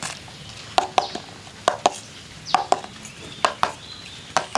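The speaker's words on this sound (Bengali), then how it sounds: "এবার বাটিগুলোকে একটু ঘা দিয়ে নেব" Bowls of palm-cake batter being rapped against a surface, about a dozen sharp close knocks, often in quick pairs, evenly spaced over a faint background hiss.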